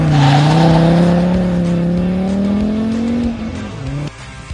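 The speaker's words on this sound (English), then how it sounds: "something very sweet comes out of the exhaust pipe and it has 5 cylinders and a turbo" A 2002 Volvo XC70's five-cylinder turbo engine and exhaust rev loudly and close, holding a steady droning note that climbs slightly before the throttle drops and it settles to a lower idle.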